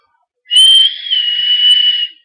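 Horizontech Krixus vape tank airflow whistling, a single steady high-pitched whistle lasting under two seconds, close and clear against silence.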